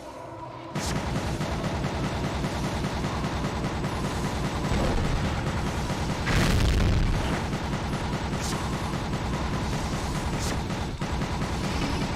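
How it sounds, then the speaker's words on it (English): Rocket launcher fire in the video game Gungrave: a dense, unbroken barrage of booming shots and explosions, loud and continuous, with a heavier blast partway through. "And now we got the rocket launcher"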